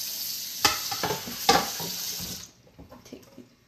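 A mixing bowl gets rinsed and washed under a running kitchen tap after bread dough, with a steady splashing water stream and a couple of sharper clunks of the bowl before the water cuts off, leaving quieter handling sounds.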